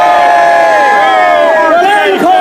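A large street march crowd in Dublin protesting water charges, sustained loud cheering and whistling with rising and falling shouts, a dense roar filling the street close by.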